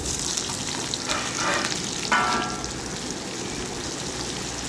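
Onion dropped into hot oil for tempering, mustard already popping, a close steady sizzle with brief louder crackling bursts.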